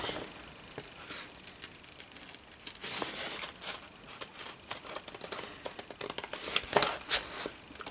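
Scissors snip and rustle through a sheet of vintage wallpaper, a steady run of crisp cuts and paper crinkles over several seconds, close and moderately quiet, with no voice.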